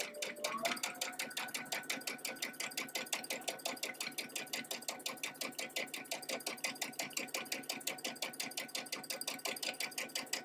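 A sewing machine stitching a quilt sampler block at a slow, steady pace, its needle clattering in an even rapid rhythm close by, with no talking.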